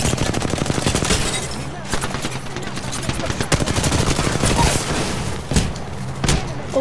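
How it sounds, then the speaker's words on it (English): Rapid automatic gunfire in the Apex Legends video game, dense continuous bursts with booming shots layered throughout, loud and close. "The enemies are shooting at me."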